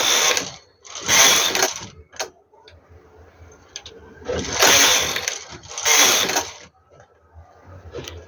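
A domestic knitting machine carriage sweeps back and forth across the needle bed, knitting rows in a baby romper: loud, close mechanical rattling passes in repeated bursts separated by short pauses, with no one talking.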